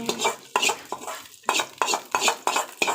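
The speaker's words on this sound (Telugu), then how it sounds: "ఇలా తాలింపు వేసుకొని ఇలా మొత్తాన్ని కలుపుకొని" A spoon scrapes around a bowl of curd rice, mixing in tempering in quick repeated strokes, about eight close, fairly loud stirs with short pauses between them.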